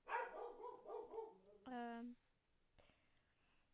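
Dogs bark in the background of an audiobook reading, a short burst of yapping rising over a quiet whispered voice, then fading into near silence.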